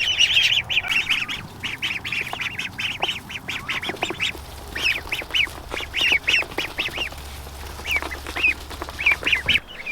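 Ducklings quack in a busy, overlapping chorus of short nasal calls, close by and fairly loud, with no talking.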